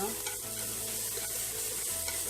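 Onion, garlic and ginger sautéing in a pan with a steady sizzle and stirring scrapes throughout, close and alone, with no talk.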